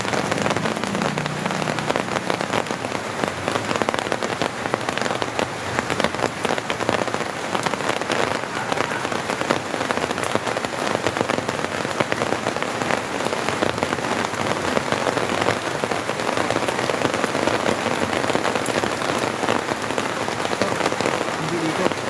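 Heavy rain pours steadily and loudly for the whole stretch, a dense unbroken hiss of drops beating on surfaces during a street flood, with no voices over it.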